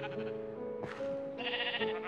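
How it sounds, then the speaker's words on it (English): Sheep bleating in Minecraft survival, two or three short wavering bleats in close succession, clear and fairly quiet, with no talk over them. "Black sheep and white sheep in."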